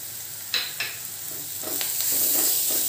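Onion, garlic and turmeric fry in sesame oil with fenugreek for a tomato garlic gravy. A steady sizzle builds as a spoon scrapes and stirs the pan in a few sharp clinks, close by, with no speech.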